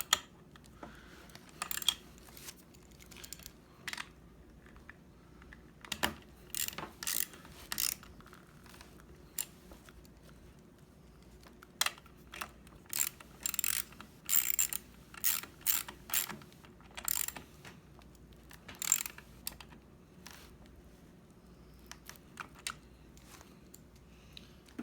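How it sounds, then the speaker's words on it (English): Ratchet wrench tightening half-inch bolts to crush lock washers while assembling a Smittybilt X20 10,000 lb winch, heard as quick bursts of close, crisp clicking separated by pauses. "you want to get them pretty tight to crush that lock washer"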